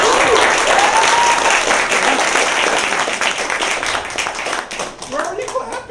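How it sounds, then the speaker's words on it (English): A live improv comedy audience bursts into dense, sustained applause and clapping that fills the room for several seconds, with voices and cheers mixed in. "Why are you clapping?"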